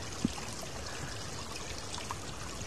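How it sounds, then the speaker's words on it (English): A small creek in the Ozark Highlands gurgles and trickles steadily, a continuous close wash of running water with one faint knock near the start. "A nice little gurgling creek."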